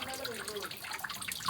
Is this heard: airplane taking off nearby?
no